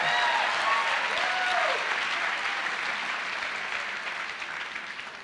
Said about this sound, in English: How about one round of applause?